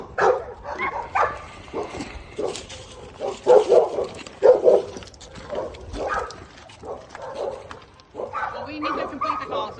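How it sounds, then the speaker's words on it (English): A dog barks and yips repeatedly at a roadside traffic stop, sharp irregular bursts mixed in with people talking nearby. "there's another dog over there"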